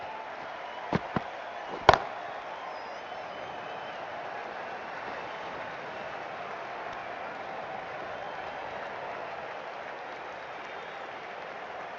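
A stadium crowd in the Cricket 24 video game, at an IPL match between RCB and RR, produces a steady, even roar throughout, with a few sharp knocks near the start.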